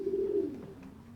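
Racing pigeon cooing in its loft, a single soft, low, drawn-out coo that is steady at first and then trails off, heard close and alone with no talking.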